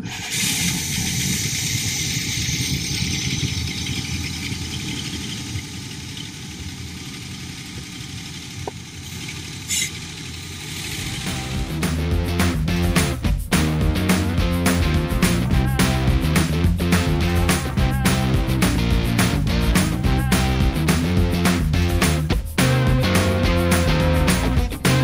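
Motorcycle engine in a custom shop cranking and catching midway, then settling into a loud, lumpy, uneven idle with irregular pops, close by; before it starts there is a quieter steady hum.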